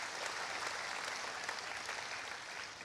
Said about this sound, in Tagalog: Sige po, palakpakan natin ang Panginoon.